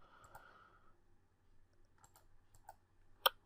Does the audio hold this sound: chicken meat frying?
no